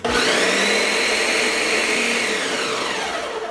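A food processor pulses vegan persimmon pie crust, its motor whirring loud and close in one steady burst that winds down slightly at the end.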